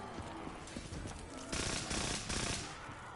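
A powerful gun in Call of Duty: Black Ops zombies mode fires in two loud, sustained bursts of rapid shots, close and harsh, over a busy game soundscape.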